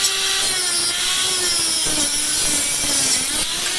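A Dremel rotary tool cutting slots into the base of a Roberts model locomotive, a loud continuous high-pitched whine with a slowly drifting tone and gritty grinding, running steadily without pause.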